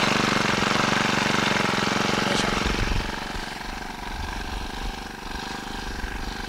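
A small two-stroke brush cutter engine idles loudly and steadily nearby, its rough buzzing drone dropping slightly in pitch partway through.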